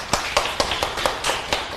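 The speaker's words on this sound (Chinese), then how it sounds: "要鼓掌一下" An audience at a Buddhist Diamond Sutra lecture breaks into applause, heard as a short run of about eight evenly spaced claps in a brief, moderately loud burst.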